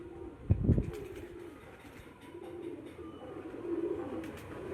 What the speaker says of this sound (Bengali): পায়রা একটু ছটফট করছে